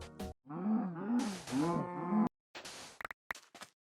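A cow in a modded Minecraft game gives two or three drawn-out lowing moos in a row, fairly loud and close, followed by a few short clicks and game thumps.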